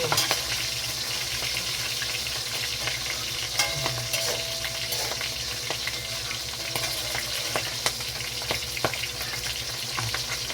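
Garlic and sliced onion sauté in a hot pan, a steady sizzle with frequent scraping and stirring knocks from a utensil, close and continuous with no talking.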